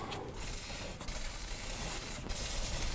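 Chain lube sprays from an aerosol can onto a motorcycle chain in a steady, close hiss lasting several seconds, broken by two brief pauses, with no voices.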